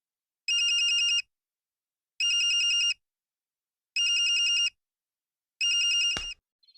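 An electronic phone ringtone repeats four times in evenly spaced bursts, clear and fairly close, the last ring cut off by a click.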